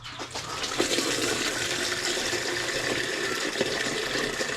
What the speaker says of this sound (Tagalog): So, magbabawas tayo ng tubig.